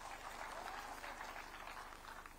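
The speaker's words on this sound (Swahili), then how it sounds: "Wapigie makofi hao watu." Audience applause at a presidential speech during a dairy farmers' field day in Meru, a steady wash of clapping from a large crowd sustained for the whole stretch without pause.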